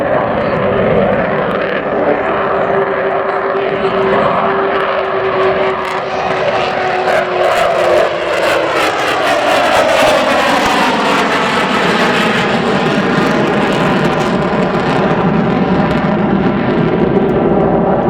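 An Avro Vulcan XH558 bomber jet makes its final flypast, a loud roaring rush that swells and sweeps past with a falling whine, then leaves a broad rumbling wash of engine noise.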